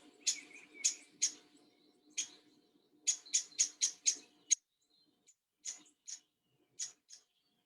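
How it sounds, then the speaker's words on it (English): A downy woodpecker calling, a series of short sharp high pips in quick clusters with brief gaps between, clear and fairly close against a quiet background with a faint low hum. "Here's the sound of the downy woodpecker."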